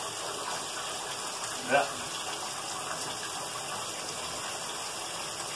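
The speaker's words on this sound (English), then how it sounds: "Wash the old hands." Tap water runs steadily into a sink while hands are washed, a loud continuous gush lasting throughout, with one brief knock and a single short spoken word.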